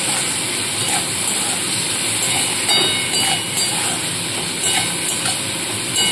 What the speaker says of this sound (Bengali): এবার এখানে কেটে রাখা পেঁয়াজ কুচনোটাও এর মধ্যে দিয়ে দিলাম। পেঁয়াজটা হালকাভাবে একটু ভেজে নেব।